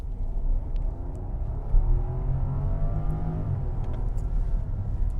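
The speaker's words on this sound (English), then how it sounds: "let's go ahead and pull out onto the road with that massive twin turbocharged V12 engine" A Rolls-Royce Ghost with a twin-turbocharged V12 pulls out onto the road and accelerates, a steady low engine rumble with a rising drone heard from inside the well-isolated cabin, continuous and moderately loud.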